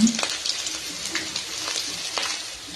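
Garlic fries in hot oil with a close, steady crackling sizzle, joined by a few brief clinks and stirs from a utensil.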